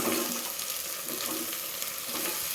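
Onions frying in a pan for tomato rice bath, a continuous quiet sizzle with light crackle and soft stirring throughout.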